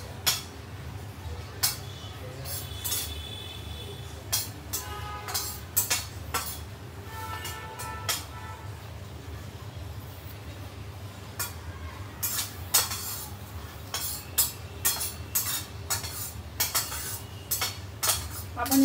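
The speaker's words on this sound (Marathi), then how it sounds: "असंच कोरडं भाजून घ्यायचं" Nuts and seeds dry-roasting in a pan with no oil or ghee, a spoon scraping and clinking against the metal in irregular strokes over a steady low background hum.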